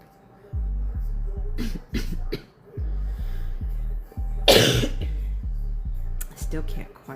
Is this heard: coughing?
yes